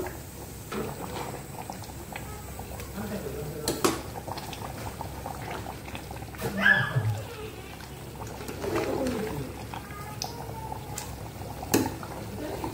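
Mutton stir-fried in an uncovered pan, a soft, steady sizzle and bubbling with occasional light scrapes and clinks of stirring, fairly quiet and close.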